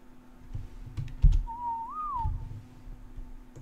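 In ARK Survival Evolved, a player's whistle calls a creature: a single clear, wavering whistled note that rises and dips. Soft keyboard clicks and low thumps sound underneath.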